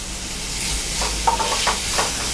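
Onions sauté in a pan for prawn pepper fry, giving a soft, steady sizzle with a few brief stirring scrapes and clicks in the middle.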